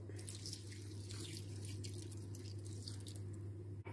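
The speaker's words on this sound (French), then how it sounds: "Je rajoute un petit peu d'eau." A little water pours into a pot of coral lentils cooking with coconut milk for dahl, a close, continuous wet splashing over a low steady hum.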